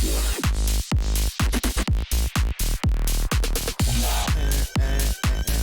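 A bright, buzzy basic sawtooth synthesizer with no effects plays a rapid rhythmic sequence of harsh notes, loud and dense with short gaps between stabs.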